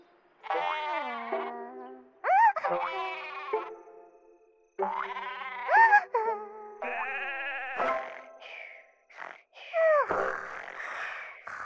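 Sheep bleating in a counting-to-sleep children's numbers song, a series of loud, close, wavering bleats repeated one after another with brief pauses between them.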